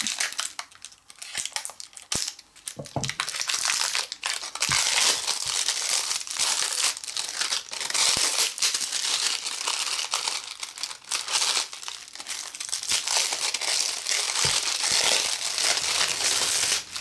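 Crinkly plastic packaging of a diamond painting kit is crumpled and pulled apart up close, a continuous loud rustling and crackling with sharp snaps, and no voices.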